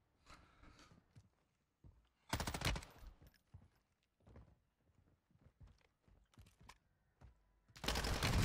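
Bursts of M13B assault rifle fire in Call of Duty Warzone 2, short volleys at about 2.3 and 8 seconds with scattered thuds and footstep-like clatter between them.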